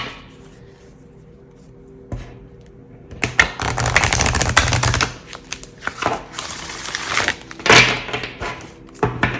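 Tarot cards shuffled hard in quick, rattling bursts, close by, with brief pauses between riffles and a few sharp taps.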